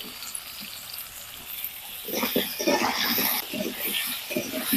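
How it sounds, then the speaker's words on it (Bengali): Potatoes, salted and dusted with turmeric, fry in oil in a village-style kitchen, a soft hiss that swells into loud bubbling crackle and stirring scrapes midway, with a voice speaking at moments. "ওই তেলে এবার আলুগুলাকে ভেজে নিব"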